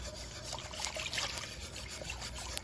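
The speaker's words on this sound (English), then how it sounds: "So I'm going to add some more water in here." Water is poured into a pan of thick homemade gravy with onion pieces, making a faint, steady trickling and hissing splash that runs without a break under quiet room noise.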